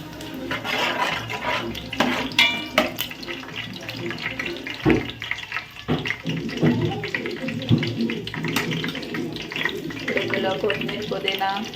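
Curry leaves and green chillies sizzle and crackle in hot oil for a mutton curry, a bursty spitting hiss with sharp pops, heard under someone talking.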